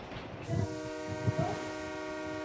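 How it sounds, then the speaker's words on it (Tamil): A train arrives with a long, steady horn blast over low rumbling and clatter of rail cars, moderately loud and sustained. "ட்ரெயின் வந்துருச்சுடா."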